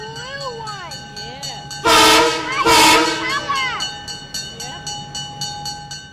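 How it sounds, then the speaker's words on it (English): A Pan Am executive train passing, with a long, very loud horn blast in two bursts over a steady rumble of the rails and a higher squealing tone, the sound fading off as it goes by. "The Pan Am executive train has been waiting up the track for the demonstration to be completed."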